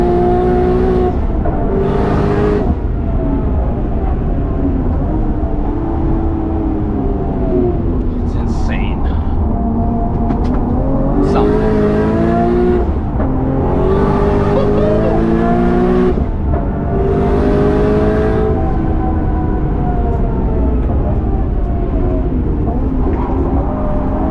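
An 850hp Nissan Skyline R34 GT-R V-Spec with its RB26 engine runs on the Nürburgring, droning loudly and steadily with rising and falling revs throughout.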